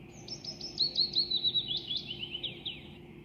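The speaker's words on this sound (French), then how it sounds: "L'oiseau" A small bird chirps a rapid series of high, thin tweets over a low background hum, fairly faint and continuous for a few seconds.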